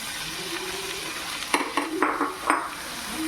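Curry base sautés in a pan with a low, steady sizzle, broken by several sharp metal scrapes and clinks as a spoon stirs it.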